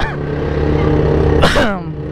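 A Honda CB400 motorcycle engine idles nearby with a steady low throbbing hum, rising briefly in a short rev before settling back, loud and close with no talk over it.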